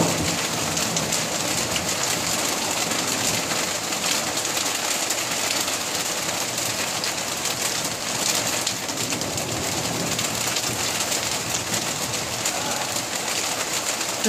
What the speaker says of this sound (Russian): Это очень редко бывает такая гроза.